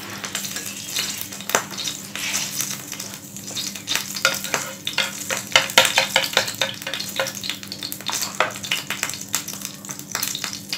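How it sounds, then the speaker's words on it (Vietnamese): Mackerel scad fries in a pan with a steady, crackling sizzle and frequent sharp pops and spatters, close and continuous throughout with no talking. "Và bây giờ chúng ta sẽ đi tiến hành rán cá sơ qua."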